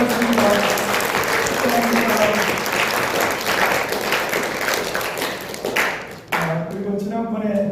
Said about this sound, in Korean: 우리 박수로 우리 축하드리겠습니다.